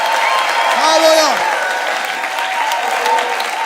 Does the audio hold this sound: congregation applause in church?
yes